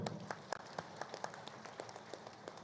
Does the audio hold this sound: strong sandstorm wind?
no